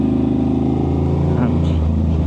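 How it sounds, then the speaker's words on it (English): An Aprilia RS660 sport motorcycle with a very loud aftermarket-sounding exhaust drones heavily and continuously up close, the engine note holding and shifting slightly as it rides, with a rider speaking over it. "the exhaust pipe is flipping loud"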